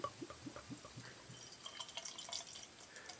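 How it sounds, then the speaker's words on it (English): Buddy's Brewhouse bourbon beer with a hint of honey glugs and splashes as it is poured into a tall glass, followed by soft fizzing and crackling of carbonation, faint and close. "Pour it into a nice long glass."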